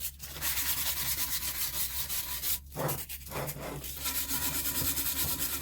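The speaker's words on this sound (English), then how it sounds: "you're just going to gently rub it. Doesn't really matter what grit sandpaper it is either." Sandpaper rubbed by hand over a wooden piece for a dollar-store spring shadow box, giving a continuous close, gritty scrubbing with short pauses between strokes and no speech.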